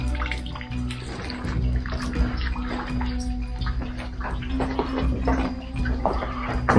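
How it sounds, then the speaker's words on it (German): Steady splashing and trickling water falling from the ceiling of an abandoned mine tunnel, continuous and fairly loud with an echoing, enclosed feel. "Hier plätschert das Wasser von der Decke."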